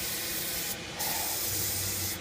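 Cleaner is sprayed onto an RC car outdoors as a continuous fine hiss of aerosol, with a short louder burst in the middle and a low hum underneath.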